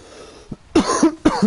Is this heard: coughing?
yes